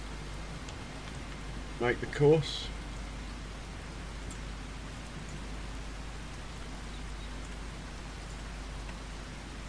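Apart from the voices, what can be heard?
rain falling in Farming Simulator 25 video game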